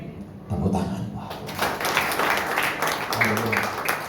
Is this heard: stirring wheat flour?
no